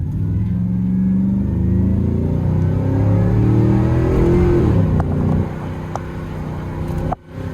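A big 6.0-litre V8 in a GMC 2500 HD pickup truck revs hard with a deep, loud rumble, holding a steady roar for several seconds before cutting off sharply near the end.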